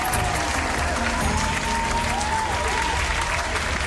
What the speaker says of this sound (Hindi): कुछ ही देर में पूरा दरबार तालियों की गड़गड़ाहट से भर गया।